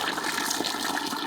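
Cold mountain water on a hiking trail flows and splashes steadily, a continuous close rushing wash with no voices.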